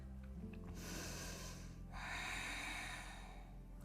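A quiet, close breath drawn in during a yoga exercise for the back, a soft airy inhale through the nose that swells midway and trails off, with no talk.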